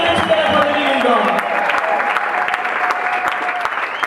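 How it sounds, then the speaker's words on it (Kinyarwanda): A church congregation claps in praise, a dense, steady wash of applause from a large crowd that holds throughout, with a voice briefly audible at the start. "Put your hands together for the living God."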